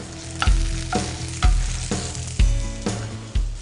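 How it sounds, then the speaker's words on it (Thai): Pork stir-fried in a hot pan, a loud, continuous sizzle broken by regular thumping tosses of the spatula roughly every second, close and up front. "ก็ลวนหมูให้สุกหน่อย"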